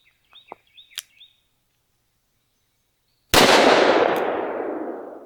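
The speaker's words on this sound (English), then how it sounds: "Let's kick it up to a 44 Magnum." A single sharp, loud .44 Magnum gunshot firing a 240 grain jacketed hollow point at a ballistic shield, decaying into a long outdoor echo, preceded by a few faint bird chirps.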